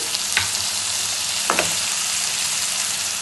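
Tomato, carrot, beans and sweet corn fry in a pan with a constant loud sizzle, broken by a couple of brief spoon scrapes as the vegetables are stirred.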